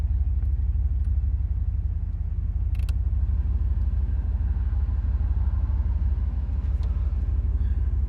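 A 1971 Chevrolet Corvette engine idles with a steady, deep rumble that holds loud and even throughout, with a faint mechanical creak over the low drone.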